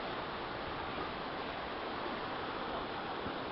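Broad, steady rushing hiss of flowing water, constant and moderately loud without change, with no voices over it.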